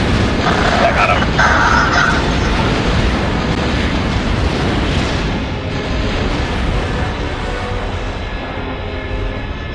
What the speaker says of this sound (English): Oh, it's just so fun to blow things up in this game.